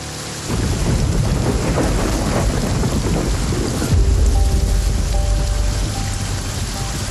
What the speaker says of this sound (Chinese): 风大雨大